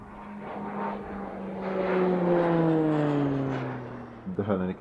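A Beechcraft T-6 Texan II turboprop trainer of the Hellenic Air Force passes at an air show, its steady propeller drone swelling louder mid-pass and sliding down in pitch before fading, with brief clatter at the end.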